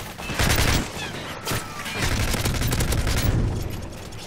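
Gunfire from the video game Modern Warfare 3 crackles in rapid bursts, a fusillade of shots with a sharp break near the middle, moderately quiet beneath the game's ambience.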